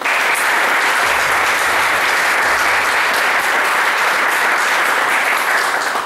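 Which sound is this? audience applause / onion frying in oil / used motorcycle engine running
audience applause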